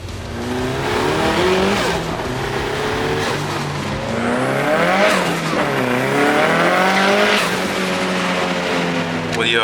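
A car driven hard, its engine roaring loud and close with pitch climbing and dropping through shifts, tires squealing in places, continuous throughout.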